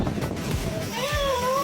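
A rescued cat, just pulled from water onto a shore, gives a couple of close meows over outdoor background noise, the second rising and drawn out.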